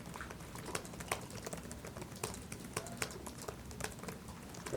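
Reporters typing on computer keyboards at a press conference, a steady patter of quick, sharp key clicks throughout with no talking.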